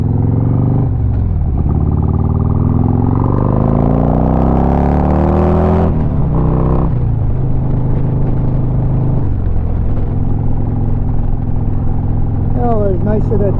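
Car engine rumbling and accelerating past a garbage truck in a hurry, a steady loud drone with rising revs throughout.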